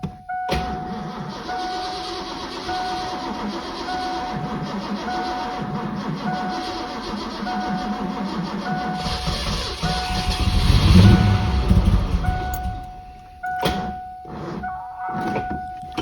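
A Ford Mustang Fox body, unstarted for five years and with its fuel pump relay removed, cranks steadily for a long stretch without catching, a droning starter whir with a high whine, ending in short clicks.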